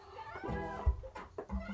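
A house cat, just woken, meows a few times close by, with short calls separated by brief pauses and some low thumps.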